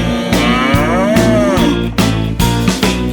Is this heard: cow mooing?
yes